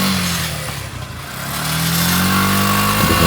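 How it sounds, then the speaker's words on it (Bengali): A modified Suzuki Gixxer SF fuel-injected motorcycle engine runs close and loud, settling to a smooth steady idle and then rising in a gentle rev. "আর এখন আগে আপনারা বাইকের সাউন্ডটা শুনে নেন বাইকের সাউন্ডটা কিন্তু অনেক সুন্দর"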